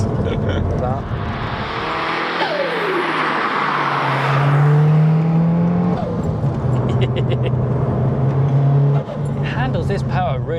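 A big-turbo first-generation Audi TT drives hard, its engine revving loudly with rising and falling pitch sweeps as it accelerates and shifts, while people talk over the noise inside the car.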